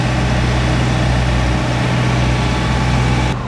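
A rear-engined Simca Abarth idles steadily nearby at a motorsports event, a loud, even low rumble that holds for a few seconds before easing slightly at the end.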